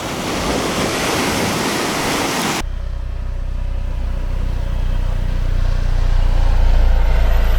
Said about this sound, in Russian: Даже когда здесь волны, то вода все равно тут чистая.